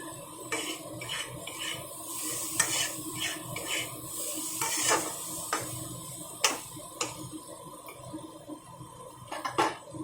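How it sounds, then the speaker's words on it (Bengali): Pointed gourd (patol) frying in a pan over a low gas flame for patol bharta, a quiet steady sizzle broken by scattered clicks and scrapes of a utensil against the pan, with no talking. "এবার আমি এটাকে কিছুক্ষণ ভাজা ভাজা করে নেব। গ্যাসটাকে লো ফ্লেমে করে দিলাম।"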